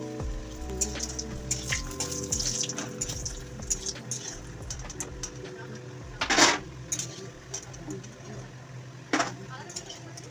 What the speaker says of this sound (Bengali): প্রথম আমি বড়িগুলো ভেজে নিচ্ছি।